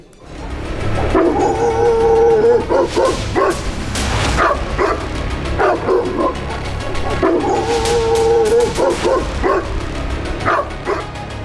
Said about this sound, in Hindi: लाल स्कूटी पर सवार बदहवास माँ बेटी और उनके पीछे आवारा कुत्तों का झुंड।